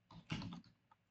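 Code being typed on a computer keyboard, a quick, soft cluster of key presses close to the microphone, followed by a single lighter tap, with no talking.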